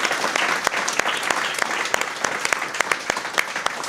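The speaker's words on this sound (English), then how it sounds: "Round of applause for Linda, who is here." An audience at a live podcast taping gives a round of applause, a dense, even wash of clapping with sharp individual claps standing out throughout.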